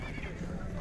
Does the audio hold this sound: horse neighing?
yes